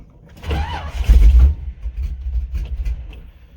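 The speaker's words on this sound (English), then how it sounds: "Come on, dang battery's about dead." A car engine cranks on a cold start with a nearly dead battery, a loud, labored churning that surges briefly and then drags on in a low, uneven rumble without catching.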